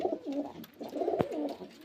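Soft, throaty cooing of pure desi Giribaz pigeons from Murshidabad repeats in short rolling phrases, fairly close, with a brief sharp click partway through.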